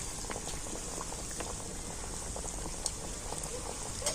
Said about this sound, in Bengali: একেবারে তো হালকা জাল দিয়ে কিন্তু বিস্কুটগুলো ভাজতে হবে